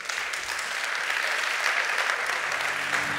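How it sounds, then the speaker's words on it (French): Sustained applause from a conference audience welcoming two guests at an award session, a continuous wash of many hands clapping at even loudness for about three seconds. "sous vos applaudissements"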